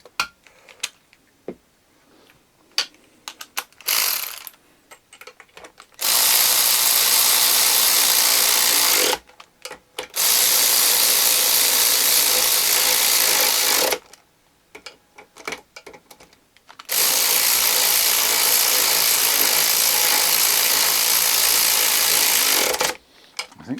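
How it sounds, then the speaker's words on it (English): A battery-powered ratchet with a weakening battery runs in three long, loud, steady bursts, each several seconds long, separated by quieter gaps with small clicks and handling noises. "I think the battery in me ratchet needs charging."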